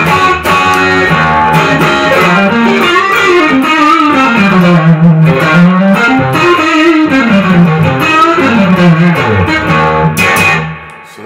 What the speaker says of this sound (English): my straight in tone sounds like this.